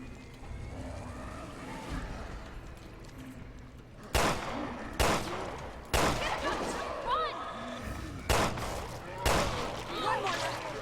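Gunfire in the survival horror game Resident Evil Revelations 2: a series of sharp, punchy shots lands at uneven intervals over a low rumbling ambience, loud and close. Someone talks in between.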